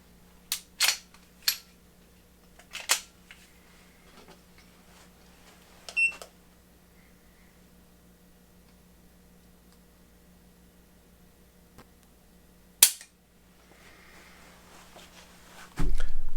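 Trigger of an FN Hi Power (P35) pistol dry-fired during a pull test, giving a few sharp, close metallic clicks spaced irregularly over a quiet background, with a louder rustling handling noise at the end.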